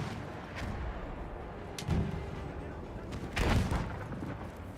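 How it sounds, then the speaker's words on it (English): Tank cannon shots in a Battlefield video game land as two heavy booms, around two and three and a half seconds, over dense battlefield noise and occasional talk. "Tank cannon beats pistol, unfortunately"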